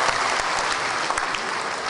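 A concert crowd in Hong Kong claps for a performer being introduced on stage. The applause is thick and continuous at a steady level throughout, with no voices.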